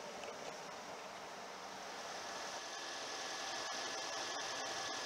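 A Toyota RAV4 Limited Hybrid AWD from 2016 with its 2.5-liter four-cylinder engine hums steadily under an open hood, a broad, even, moderate drone with no speech over it.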